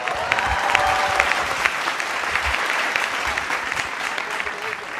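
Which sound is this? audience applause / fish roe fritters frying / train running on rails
audience applause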